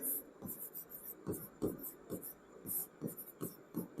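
Pen writing out a maths solution on paper, close rhythmic scratches and taps in short strokes, steady throughout with faint breathy background.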